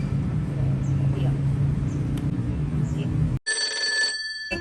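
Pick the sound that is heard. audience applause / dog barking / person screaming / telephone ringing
telephone ringing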